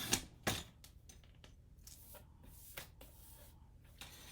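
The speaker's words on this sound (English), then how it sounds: "So I'm actually going to use my trimmer." A paper trimmer blade slides along a sheet while trimming around a printed title for a scrapbook layout, giving a few quiet scraping and rasping strokes with small sharp clicks near the start.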